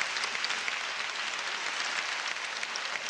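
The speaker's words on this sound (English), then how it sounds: "Give them a round of applause." Steady audience applause at a Los Angeles gathering, a dense even wash of many hands clapping throughout with no talk over it.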